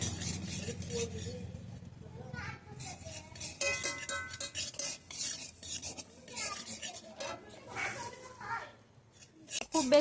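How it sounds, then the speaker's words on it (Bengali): Semolina (suji) fries in a little ghee for halwa while a spoon stirs and scrapes against the pan in uneven clinking strokes, close but fairly quiet, with someone talking over the stirring. "বেশি লাল লাল করে ভাজবেন না হালকা বাদামি হয়ে এলে সুজিটা নামিয়ে নেবেন"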